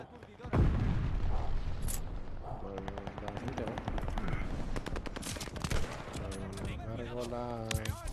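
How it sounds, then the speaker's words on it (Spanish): Gunfire in Call of Duty Vanguard, including a Kar98 rifle: a sharp close shot opens a dense stretch of rapid automatic fire and scattered shots, mixed with game effects and someone talking over it. "¿Quién coño me dispara, tío?"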